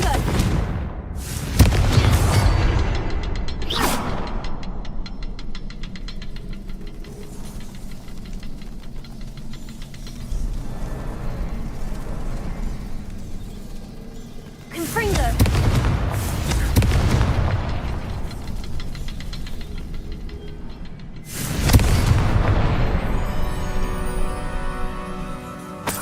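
Repeated deep booming blasts of the Confringo fire spell in the Hogwarts Legacy game, three or four big explosions spaced several seconds apart, each with a long rumbling tail over a steady bed of game ambience.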